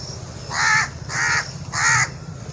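A crow caws three times in a steady rhythm, harsh and fairly near, over village crop fields, with a low constant hum of wind or distant noise underneath.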